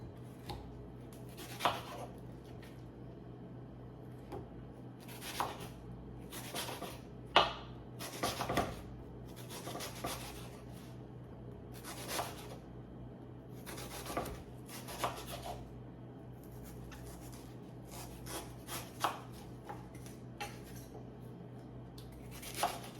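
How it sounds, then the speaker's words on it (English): A knife cutting up onions: faint, irregular cuts and scraping taps on a board with pauses between them, over a quiet background hum and no talk. "Now let's cut up some onions."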